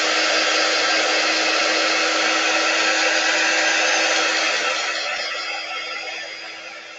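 A hair dryer blows steadily and loudly on chalk paste laid through a silkscreen onto a round wooden door sign, a continuous whooshing roar that eases off and fades slightly toward the end.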